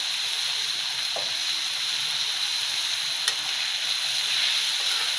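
Tomato and vegetable curry of gorikai (cluster beans) frying in a pan, a steady close sizzling hiss throughout with one faint tap of a utensil, no voices.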